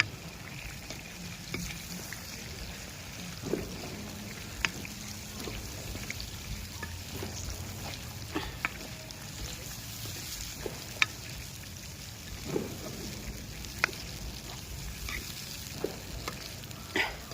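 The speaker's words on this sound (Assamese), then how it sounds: "বিলাহীটো দি দিলোঁ। এতিয়া ধুনীয়াকৈ মিক্সিং কৰিম।" Tomato and oil gravy for chicken curry stirred in a pot over an open wood fire, soft sizzling frying under scattered scrapes and clinks of a spoon, fairly quiet and unhurried.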